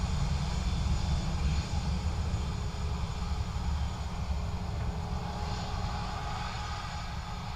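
An Aer Lingus airliner from Birmingham arrives at Dublin Airport, its jet engine noise a steady, broad rumble and roar that stays at moderate level from a distance, with no talk over it.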